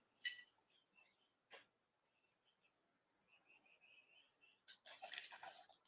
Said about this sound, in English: I hear the birds chirping outside.